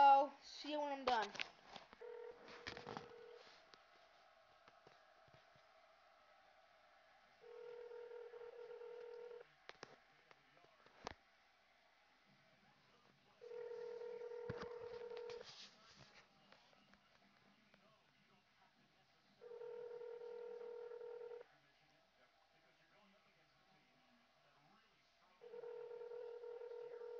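Telephone tones come from a phone placing a call: a busy burst of dialing tones at first, then a steady ringback tone that repeats in long even pulses with silence between, faint and close.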